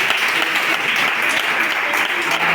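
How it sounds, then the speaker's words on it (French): A church congregation at a Saturday praise and healing service applauds in a dense, loud, continuous wash of clapping that holds evenly throughout. "Applaudissons le Seigneur pour ça."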